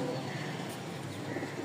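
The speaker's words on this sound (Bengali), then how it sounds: "আসেন এবার ভালো 2 জোড়া কবুতর দেখাই" A pair of light-coloured pet pigeons coo softly in a loft, a steady low murmur with a constant background hum and no clear individual calls standing out.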